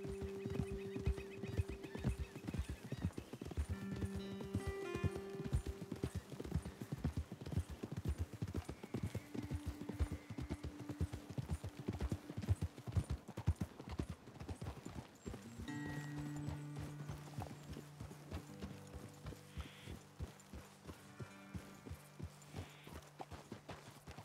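Horses' hooves clip-clopping in the video game Red Dead Redemption 2, a steady close rhythmic walk of several hooves that slows and stops, with a neigh and sustained musical tones in the background.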